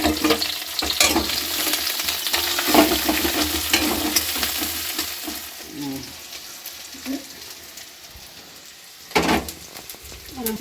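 Chopped onions fry in a pan, a continuous close sizzle broken by scraping stirs, loudest at first and then softening, with a sharp clatter near the end.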